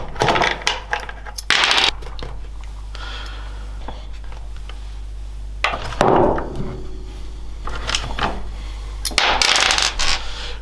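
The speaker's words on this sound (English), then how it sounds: "We can now flip the fender over and continue to remove these 5 bolts here." Bolts being removed from the rear fender of a 2023 CFMOTO 450SR motorcycle, with scattered close metallic clicks, taps and rattles of tools and fasteners in bursts over a steady low hum.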